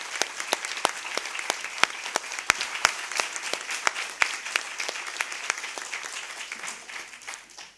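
An audience applauds to close a justice administration seminar in Valdivia, a dense, steady wash of clapping from many hands that carries on for several seconds before tapering off at the end.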